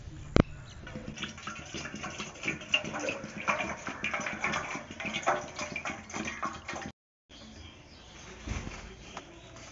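Water splashes and trickles into a bowl of tamarind to soak it, a steady faint pour broken by a brief gap, with a sharp knock at the start.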